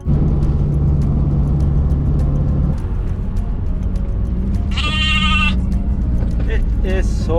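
Loud sheep bleats ring out close by, with one long cry in the middle and shorter calls near the end, over steady wind and rumbling background noise in bad weather.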